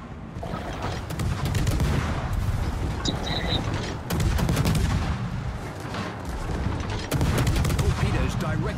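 Ship guns fire during a naval battle game, with heavy booming shots roughly every few seconds layered over continuous rumbling and clatter while someone talks over them.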